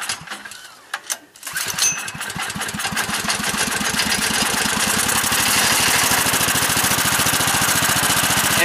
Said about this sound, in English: That is a generator running completely on synthetic gas.